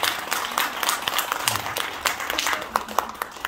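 Scattered applause from an audience at a Buddhist temple ceremony closing a hundred-day Lotus Sutra recitation prayer, with uneven claps over a murmur of voices.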